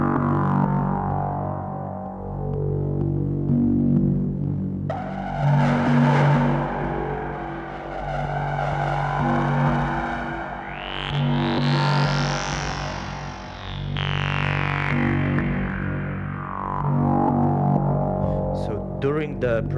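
A short modular synthesizer piece made during a sound check: a continuous, distorted electronic texture with a low droning base, swelling noisy bursts and rising and falling pitch sweeps, loud and steady throughout.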